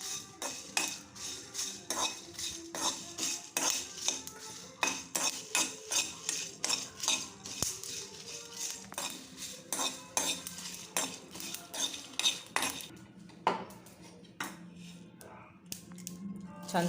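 Spices being stirred and dry-fried in a pan for a mutton yakhani pulao masala, with frequent sharp scrapes and clinks of a spatula against the metal pan in an uneven rhythm, close and moderately loud.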